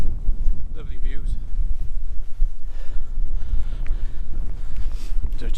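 Wind buffets the microphone on a hilltop trig point near Lord Hereford's Knob and Hay Bluff, a loud, gusty rumble that rises and falls without a break.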